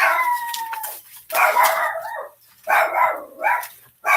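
A dog barks and howls at the mail carrier in loud, drawn-out bursts, four calls separated by short pauses, close by with no talking.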